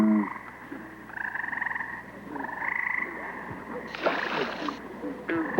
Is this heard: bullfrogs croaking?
yes